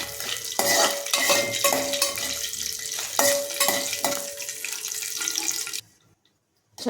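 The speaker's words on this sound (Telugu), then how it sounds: "కొంచెం జీడిపప్పు వేస్తున్నానండి, వేపుతున్నాను నేను" Cashews frying in ghee over low heat in a home kitchen, with steady close sizzling broken by repeated scraping stirs of a spoon against the pan, ending in a brief near-silence.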